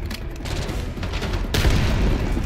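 Rapid gunfire from the GPR rifle in Call of Duty: Black Ops 6, a dense, continuous burst of shots with booming impacts that swells louder toward the end, with no talk over it.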